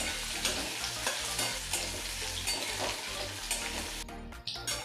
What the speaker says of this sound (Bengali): পেঁয়াজটা লাল করে ভাজবো না, হালকা করে ভেজে নেব।